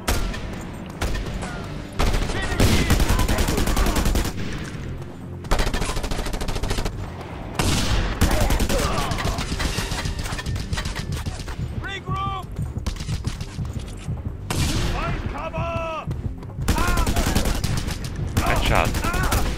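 Loud bursts of automatic gunfire in Just Cause 2, long rattling volleys broken by short pauses, with booming hits and a voice faintly under the shooting.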